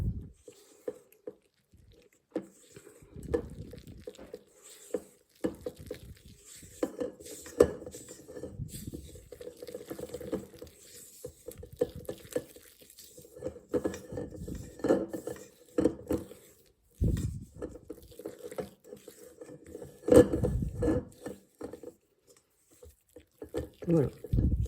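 Flour and water are stirred together for a spelt sourdough starter, giving soft, sticky, irregular squelching and scraping close by; a voice talks over parts of it.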